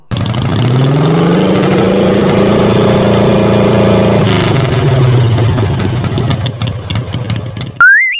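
A motorcycle engine idles loud and close with a steady, throbbing hum that holds for several seconds, then loosens and fades before a sharp final burst of noise.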